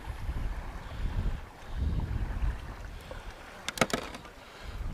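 Strong wind blows across a reservoir during carp fishing, buffeting the microphone with a low, surging rumble in uneven gusts.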